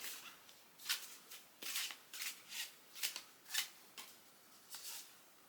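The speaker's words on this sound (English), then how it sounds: "shuffling takes a moment when the cards need to call to you" Quiet, close-up tarot card shuffling: soft riffling bursts and flicks of stiff cards repeating in an uneven rhythm, with no talking.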